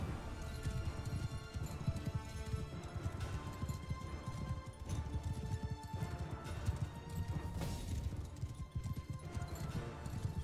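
Rapid hoofbeats of galloping horses thunder continuously amid a busy battle din in Mount & Blade II: Bannerlord, with occasional whinnies and crashing clatter.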